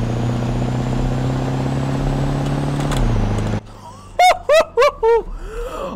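A Chevrolet Silverado truck engine in Roblox Greenville revs and pulls in third gear, a steady mid-pitched drone that drops in pitch as the gear shifts, then falls away while short voiced laughs follow.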